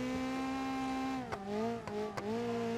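Dune buggy in a driving game mod, engine tone holding steady then sliding in pitch with short squeal bursts as it drifts, loud and close.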